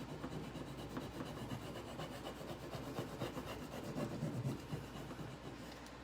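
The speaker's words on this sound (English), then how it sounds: "if you notice that it isn't off all the way, you just keep going ahead and doing your rubbing on there" Steady rubbing of a Prima transfer onto furniture being refinished, a soft continuous scratchy friction sound at close range with no talking.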